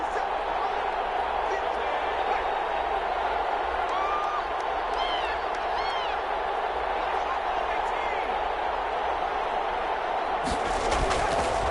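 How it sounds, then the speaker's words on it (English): Stadium crowd in an American football video game cheers and roars continuously, a dense loud wash of noise with faint whistles and claps layered in, swelling slightly near the end. "Listen to this crowd now."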